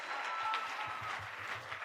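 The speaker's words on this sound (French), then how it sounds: "Maintenant, applaudissez pour la douceur." A church congregation at a 2013 service in Chicago applauds briefly, a soft, distant-sounding patter of clapping that stays even for a moment.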